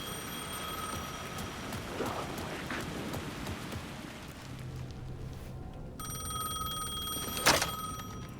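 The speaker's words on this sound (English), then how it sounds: "The phone was ringing again." Bell-like telephone in the survival horror game Alan Wake 2, ringing in two bursts with a steady electronic tone and a sharp click, set over a constant hiss like rain.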